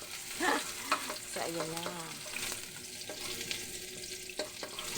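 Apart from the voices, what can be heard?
garlic and ginger sautéing in a pan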